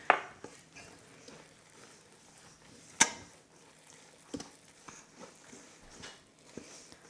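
A whisk or spoon works hot Brazilian cheese bread batter in a bowl, giving sparse knocks and clacks against the side at an irregular pace, with quiet scraping in between.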